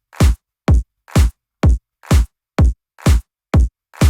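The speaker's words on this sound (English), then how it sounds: "In the second part, there are playing some claps." Two layered electronic clap samples in a dance track hit nine times in a steady, even rhythm. Each snappy, bright burst carries a low thump, and the hits are loud and dry with no other sound.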